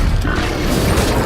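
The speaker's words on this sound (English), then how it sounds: "Teapot cannon." Teapot cannon fire in the Alice: Madness Returns dollhouse level, a dense, continuous mechanical crashing and booming barrage that stays loud and steady throughout.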